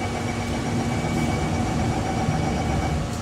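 A train in the Roblox game pulls into the platform, giving a steady, loud low engine rumble and hum with a faint high tone, continuous throughout.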